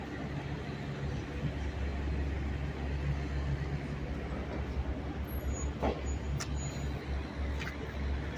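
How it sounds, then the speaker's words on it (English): Morning traffic on the Las Vegas Strip, a constant low engine hum with a brief sharp hiss of bus air brakes partway through, and light talk in the background. "See the traffic backing up all the way to back there."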